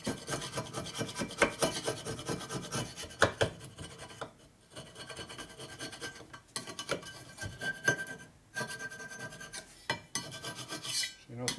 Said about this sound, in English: So you know the kind of scraper I use.